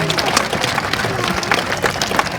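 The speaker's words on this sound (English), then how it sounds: "Let's give Gina a round of applause, everybody." Audience applause for a performing sea lion at a Blackpool show, a dense, steady wash of clapping filling the whole stretch at fairly loud level, with crowd noise mixed in.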